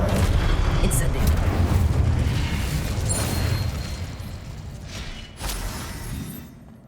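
Incendio fire spell cast in the Hogwarts Legacy video game, a loud booming blast of fiery rumble sustained through most of the moment, with a second burst near the end amid ongoing battle noise.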